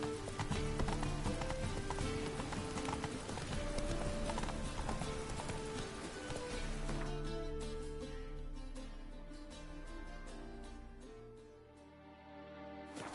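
Horse hooves clip-clop steadily in The Witcher 3, a continuous rhythmic trot under a layer of game music and ambience, with no voices.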